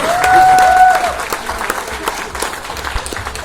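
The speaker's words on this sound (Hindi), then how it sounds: "प्लीज जोरदार तालियों के बीच।" Applause from an audience at an awards event, clapping that swells briefly over a sustained musical tone and then tapers into scattered claps.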